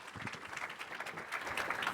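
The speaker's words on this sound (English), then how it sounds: "let's do a round of applause for Jack and bring him up here" An audience at the Atlassian Summit 2015 applauds as a speaker comes up on stage, a brief spell of moderately distant, steady clapping from a crowd.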